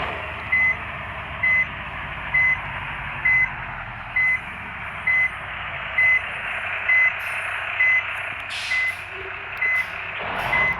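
A used bus being backed up gives out a steady series of about a dozen evenly spaced high reversing beeps over a low idling engine rumble, close and clear with no talk.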